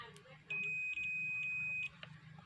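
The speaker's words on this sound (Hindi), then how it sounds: "देखिए यहाँ पास लगाने पर जो है मेरा बजर साउंड कर रहा है" A multimeter's continuity buzzer gives a loud, steady high-pitched beep lasting over a second, with a brief dropout, then cuts off; a quiet voice murmurs in the background.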